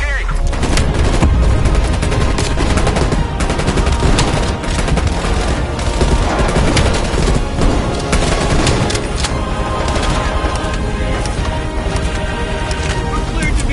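Sustained gunfire and explosions from the Call of Duty Cold War campaign, loud and dense throughout, with heavy bursts over a constant roar of battle and possible voices mixed in.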